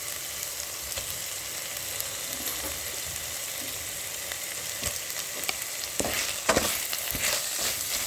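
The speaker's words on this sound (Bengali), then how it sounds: "এবার টমেটো কুচি দিয়ে দেবো।" Chopped tomato goes into hot oil with fried ginger and garlic for a spiced meat dish (mangsho kosha). Steady close sizzling is broken by scraping stirs that grow busier and louder toward the end, and no one speaks.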